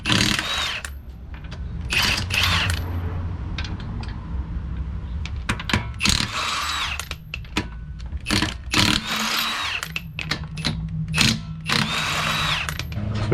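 Impact or power tool zipping lug nuts off the wheel of a Nissan 350Z/Infiniti G35 with a 21 mm socket, in short loud bursts separated by brief pauses and clanks, with no talk.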